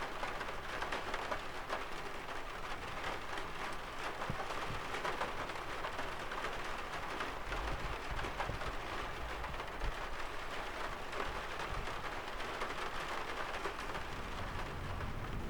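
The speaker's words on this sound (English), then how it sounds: "seeing the rain hitting the windows" Steady rain patters against cabin windows in a continuous dense hiss, close and unbroken, with no voices.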